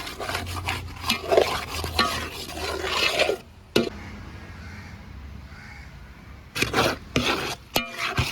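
Ripe plantain being stirred in ghee in a pan for Kerala banana payasam, a steady scraping, stirring texture up close with faint sizzle, pausing briefly midway before the stirring strokes resume.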